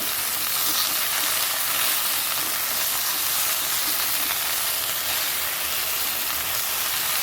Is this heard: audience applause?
no